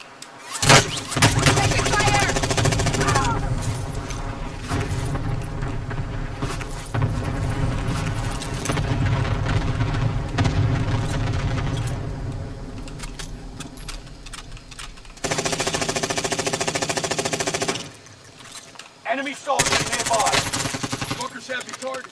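Gunfire in Call of Duty Warzone comes in bursts of rapid sharp shots across the clip, mixed with game effects and pauses, fairly loud and close.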